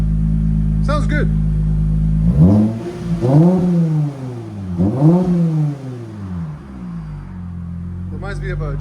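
A Lexus IS 350 with a 3.5L V6 and aftermarket exhaust holds a steady low idle, then is blipped through several sweeping revs that rise and fall before settling back to a loud, deep idle, close by.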